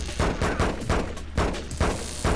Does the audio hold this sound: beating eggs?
no